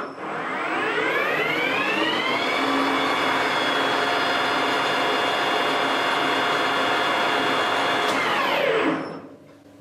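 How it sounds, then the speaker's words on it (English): A lathe makes a quick bevel cut on a small part held in a 5C collet, with a steady whirring machine hum and a rising whine that holds for several seconds before spinning down at the end. "really quick cut to put this little bevel on here."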